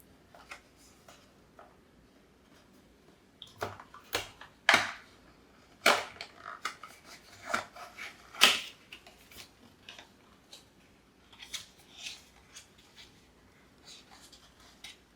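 A TP-Link Tapo L531E smart bulb box being opened, with a series of sharp snips and plastic clicks as a tab on top of the packaging is cut, irregular and close, with brief quiet gaps between.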